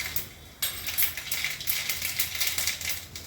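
Dry red chillies and mustard seeds crackling in hot oil while tempering for fried papaya, a dense, bright spattering sizzle with sharp pops throughout, close and loud.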